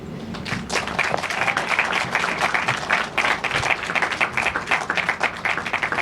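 Steady applause from a crowd at a ribbon-cutting ceremony, dense clapping that holds at an even level throughout without pause.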